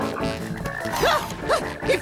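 A cartoon toad croaks three times in quick succession, loud and close, each croak a bending, warbly call over a busy animated soundtrack.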